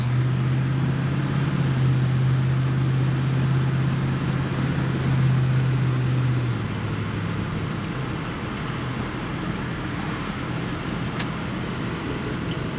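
A 1967 Chevy Camaro driving with a steady low engine drone and road noise, a strong low tone holding for several seconds and then dropping as it shifts, continuous and fairly loud with no talk.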